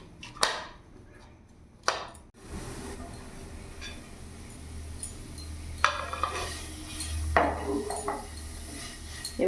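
Mawa filling for Holi gujiya mixed by hand in a bowl: soft squishing and scraping with occasional clinks of a utensil against the bowl, close and fairly quiet, no talking.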